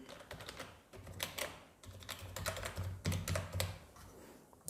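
Rapid clicking of computer keyboard keys as a driving licence number is entered into an online form, an irregular burst of close, crisp keystrokes with brief pauses, no voices.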